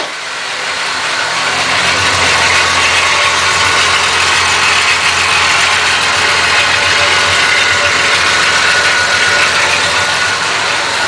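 A 1993 Dodge Dakota with the 3.9L engine idles steadily during an oil change, a continuous close engine hum with broadband noise that holds even for the whole stretch, with no talking over it.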